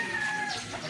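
A gamecock rooster being prepared for a fight gives a short, close cluck. Busy background noise and a faint thin tone run beneath it.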